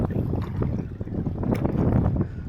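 Wind gusting across a canoe or kayak on the Missouri River, a steady low rushing roar with buffeting against the microphone and faint water movement throughout, with no voices.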